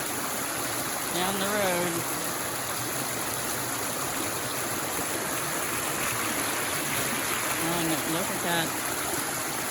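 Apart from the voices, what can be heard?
flooded creek flowing water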